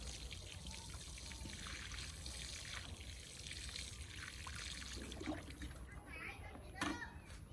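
Water poured onto the soil in a basket holding a freshly planted lime tree, a steady close trickling and splashing that runs throughout, with a brief louder splash near the end.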